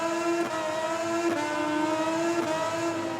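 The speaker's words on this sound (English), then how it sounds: "revving up as we get underway" Motorcycle engines from the MotoGP 20 racing game rev together at the start of a six-lap race at Silverstone, a steady layered drone of high tonal whine with brief surges, loud and continuous.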